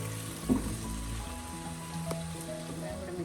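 Tomatoes are stirred and sautéed in a pan for chicken curry, giving a faint, steady sizzle with a soft scrape of mixing. A low tonal hum runs underneath.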